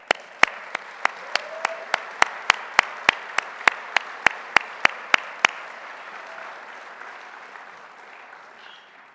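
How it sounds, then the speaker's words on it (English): Clapping at an awards banquet: sharp, evenly spaced claps ring out for about five seconds, then give way to a soft, diffuse wash of crowd applause that fades out gradually. "Please join me in a round of applause for a fantastic leader and a great friend."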